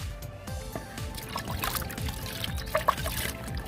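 Plant-tonic mixture made from overripe fruit such as rotten bananas and mangoes is poured into about 10 litres of plain water, a steady splashing trickle with a few brighter drips, moderately close and without talk.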